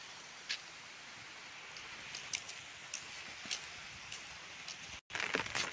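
Rain falls outdoors in a village during the monsoon, a steady soft hiss dotted with scattered drop ticks. It cuts out briefly near the end, then returns slightly louder.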